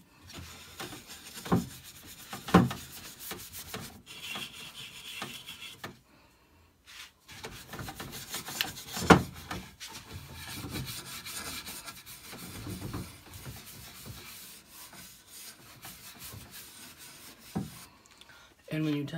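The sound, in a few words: cloth wiping excess chalk paint off wooden hutch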